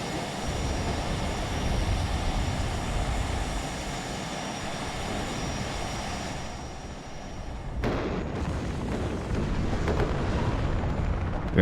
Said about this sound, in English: And there's the cruise missile.